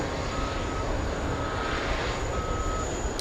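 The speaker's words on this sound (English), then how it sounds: "We have Virgin Atlantic on final approach. A few seconds from touching down." A Virgin Atlantic airliner from Manchester on final approach at JFK, moments from touchdown, makes a faint, steady distant jet rumble with a thin high whine, brief and unbroken with no voices.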